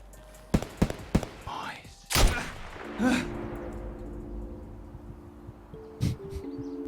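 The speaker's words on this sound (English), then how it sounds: "Just fire 3 bullets if you're listening." Gunfire in Escape From Tarkov: several sharp shots ring out, three quick ones early and then a louder blast with a long decaying echo, followed by quieter ambient tones and another later report.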